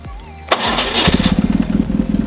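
A BMW R 1150 GS boxer-twin motorcycle engine cranks briefly and catches, then settles into a loud, close, lumpy idle with an even pulsing beat.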